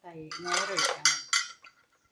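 Metal spoon scraping and clinking in a cooking pot while taro curry is stirred, a few close, distinct scrapes and knocks in quick succession before stopping.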